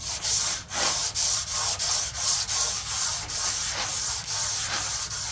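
A walnut table surface sanded by hand, loud rhythmic back-and-forth abrasive strokes in a steady, even cadence, close up with no talking.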